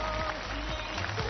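Applause at a choir competition grand final on a TV stage, a dense wash of clapping heard under a host's voice with a sustained musical tone underneath.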